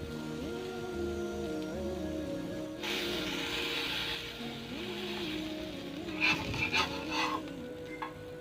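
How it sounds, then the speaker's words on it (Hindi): A kabab frying on a tawa griddle gives a steady soft sizzle under a low background hum, with a brief brighter burst of crackle partway through and a few light clinks near the end. "इसे तवे पे पकाना है"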